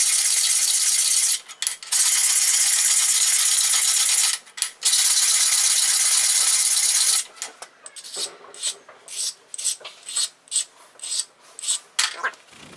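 Rubbing stone run along the edges of a ceramic tile to bevel them, heard first as three long, steady rasping passes, then as a quicker series of short, uneven scraping strokes, close and fairly loud, with no talking.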